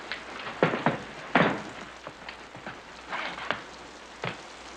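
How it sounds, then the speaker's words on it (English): Rain falls steadily with a soft hiss, broken by a few sharper spatters and drips that stand out now and then. "Looks like the rain's letting up some."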